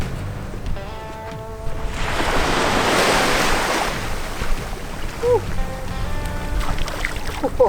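Waves wash onto the shore in a swelling rush that peaks and fades, with wind buffeting the microphone and faint tonal sounds around it.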